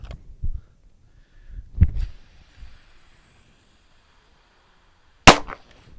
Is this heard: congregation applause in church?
no